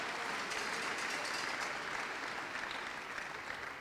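Church congregation clapping together during a sermon, steady dense applause filling the room throughout, moderately loud, with no talk over it.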